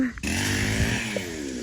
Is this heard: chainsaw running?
yes